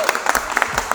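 Applause from a classroom audience at an IIM Indore IPM batch introduction session, a short burst of quick, uneven claps that rise and fall over about a second, fairly close and loud.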